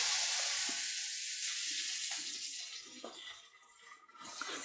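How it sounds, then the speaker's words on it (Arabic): Vegan cheese with onion sizzling in a covered pan over low heat, a steady soft hiss with faint bubbling and crackles, close and quiet, with no talking. "وبنغطيها على حرارة هادئة حتى تسيح الجبنة"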